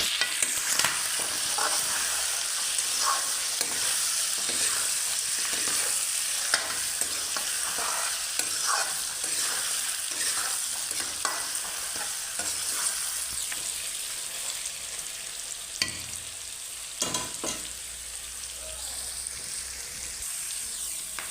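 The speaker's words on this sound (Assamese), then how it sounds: "ইয়াত অলপ নিমখ আৰু হালধি দি দিছোঁ আৰু ভালদৰে লৰাই দিছোঁ" Pork seasoned with salt and turmeric stirred and fried in a pan, giving a continuous close sizzle with regular scraping spatula strokes and occasional clatter, no voices.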